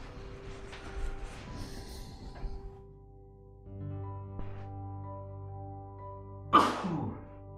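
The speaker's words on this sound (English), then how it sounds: "I'm going to sneeze." One sharp, loud sneeze bursts out near the end during a quiet live painting session indoors, preceded by soft rustling and a low steady hum.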